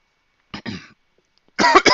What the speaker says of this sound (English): I'm coughing up a storm today